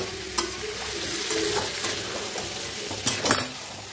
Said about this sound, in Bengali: আর ঢাকবো না, এবার এইভাবেই কষাবো, আর একটু কষাবো।